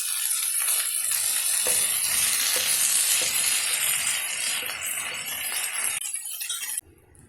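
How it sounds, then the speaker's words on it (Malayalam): Cooked koorka (Chinese potato) stirred into prawns in a hot pan with chilli powder gives a loud, steady sizzle and scraping stir close by, ending abruptly after a few seconds. "ഇനി വേവിച്ച് വെച്ചിരിക്കുന്ന കൂർക്ക ഇതിലേക്ക് ചേർക്കുക."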